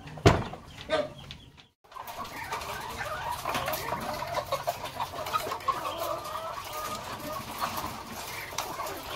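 Laying hens cluck and murmur continuously as they are fed, a busy flock close by with overlapping soft calls after a brief sharp knock and a moment of quiet at the start.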